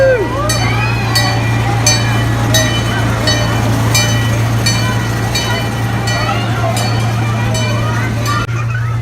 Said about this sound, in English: It's a train inside of a park.